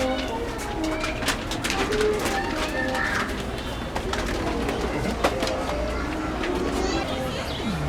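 Pigeons or doves coo repeatedly inside a zoo aviary, mixed with chirping from other birds and steady background chatter of visitors throughout.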